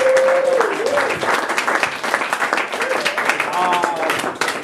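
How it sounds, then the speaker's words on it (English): Audience applause at a cause fair session, steady and dense throughout, with a voice speaking briefly over the start. "One last round of applause for these guys."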